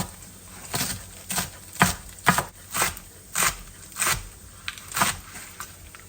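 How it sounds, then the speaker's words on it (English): A knife chops spring onion whites on a board in about a dozen separate, fairly crisp strokes at an uneven, unhurried pace. "just chop up the whites of the spring onions and add it to the pan"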